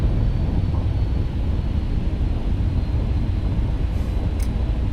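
Steady, loud low roar of MD-11 thrust reversers rolling out after landing in X-Plane 11, a continuous broadband rumble with no talk.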